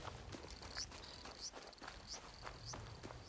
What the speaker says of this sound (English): Noisy grasshopper there.